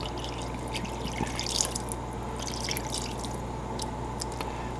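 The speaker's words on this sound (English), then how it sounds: "now I'm going to add my water, turn on my heat, do about medium." Water added to a hot pan of bacon for a cheesesteak burger, a steady hiss and dribbling trickle with scattered drips and crackles over low background hum.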